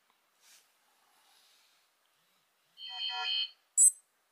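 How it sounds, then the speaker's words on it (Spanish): A short electronic beep from a Casio G-Shock GBA-900 smartwatch message notification sounds, followed quickly by a second higher chirp, crisp and close against near silence. "Vemos cómo nos ha avisado con un pitido"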